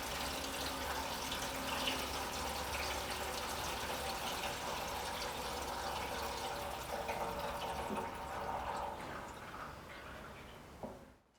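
Liquid fuel pours steadily into the tank of a Sealey AB-series space heater, a continuous gushing, filling flow heard close and alone for about eleven seconds before tapering off abruptly at the end.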